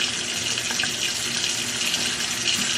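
Kitchen tap running steadily into a sink while food is rinsed, a continuous close hiss of flowing water with faint clatter underneath and no talking.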